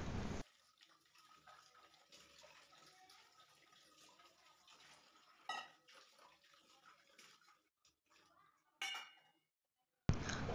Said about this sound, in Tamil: பாத்திரம் மட்டும்தான் கழுவி முடித்தேன்.